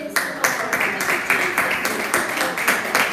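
A church congregation claps in a rhythmic, regular beat, each clap sharp and close, with faint voices underneath.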